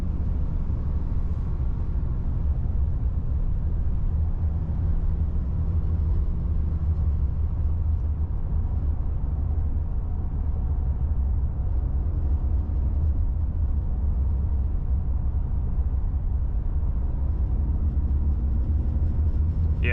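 A 2025 Ram 2500 with a Cummins diesel engine pulls under part throttle, a deep, continuous low rumble with a steady drone from inside the cab, holding evenly for twenty seconds without talk.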